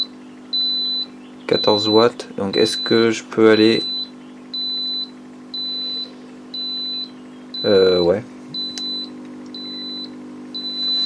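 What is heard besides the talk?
Victron MultiPlus II inverter beeping alarm for grid loss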